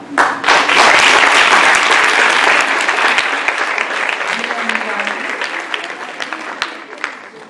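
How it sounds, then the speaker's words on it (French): Loud, sustained applause from a crowd of students of lycée Montgérald at a school sports event in Martinique, dense clapping that slowly fades over several seconds, with a brief voice low underneath. "nous allons les applaudir bien fort"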